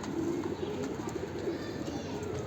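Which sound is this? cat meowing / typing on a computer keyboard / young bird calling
young bird calling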